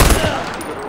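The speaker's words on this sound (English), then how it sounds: "Gunfire?" Burst of rapid machine gun fire in the shooter Far Cry 4, a loud, dense crackle lasting under a second, with a few heavier thumps at the start before the shots blur into a sustained rattle.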